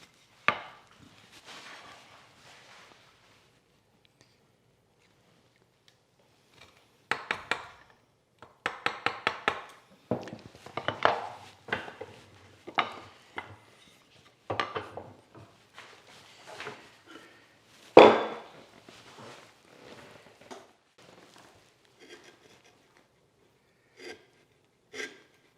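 A chisel cuts a slight undercut into wood for a tusk tenon joint, with sharp percussive taps and scraping strikes, some in quick clusters, separated by silent pauses.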